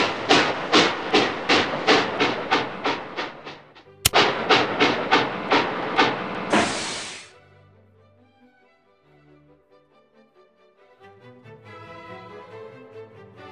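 Cartoon trains at a station in a Curious George children's game, a loud run of rhythmic chugging puffs that stops with a hiss, followed by quieter musical tones.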